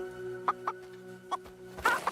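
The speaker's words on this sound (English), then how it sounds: "You can still kick chickens." Chickens in the video game Fable give a few short clucks, spaced and fairly close over a low steady game ambience, with a louder double cluck near the end.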